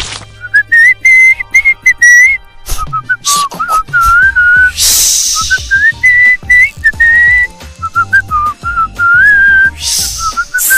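A person whistles toward a snake in a lively string of loud, close, wavering melodic phrases broken by short pauses, with brief clattering noises in between.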